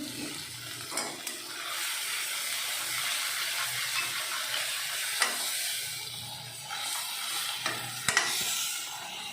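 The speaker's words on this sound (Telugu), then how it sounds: "ఇది ఒకసారి ఆయిల్ ఫ్రై ఇలా వదిలేస్తున్నాను ఆయిల్ పైకి వచ్చాక అద్దేద్దాం" Homemade flaxseed spice powder frying in oil in a pan, a steady soft sizzle with occasional stirring scrapes and small clinks, close and continuous.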